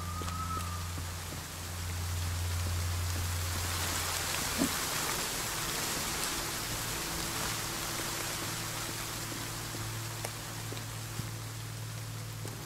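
Rain in the survival video game The Forest falls as a steady, even hiss of downpour that stays constant for the whole stretch, with a low game hum beneath and occasional faint drips, no talking.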